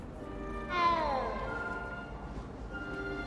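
A cat in Hogwarts Legacy lets out a single clear, rising-and-falling meow while being petted, fairly close, followed by quiet background ambience.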